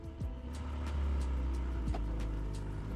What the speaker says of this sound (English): ignition on the left, fires up, and the exhaust in the GTS sounds wonderful